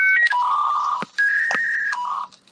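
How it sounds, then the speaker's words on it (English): Fax machine tones play as steady electronic beeps shifting between pitches in a short, loud sequence, with two brief gaps, heard alone and close. "That's a fax machine."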